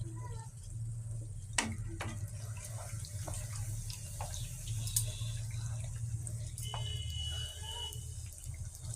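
Pitha cakes deep-frying in hot oil give a steady, close sizzling hiss with scattered crackles and pops throughout, no one talking.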